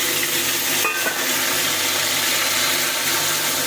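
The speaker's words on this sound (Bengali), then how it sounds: "এই পেঁয়াজ কলিটা আমি ভেজে নেবো" Onion stalks frying in a pan with turmeric and salt, a loud, continuous close sizzle with a brief stir or clink near the start.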